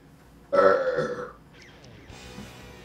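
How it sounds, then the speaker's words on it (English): One loud, rumbling burp swells and fades over about a second, followed by quieter breathy noise and faint background sound. "And that is hungry burp, by the way."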